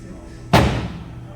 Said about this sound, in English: Stand by for the doors to close.